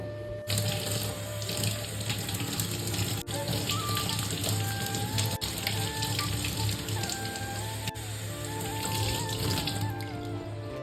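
Tap water runs steadily into a sink as fresh strawberries are rinsed, with continuous splashing and occasional small knocks and clinks throughout, close and fairly loud.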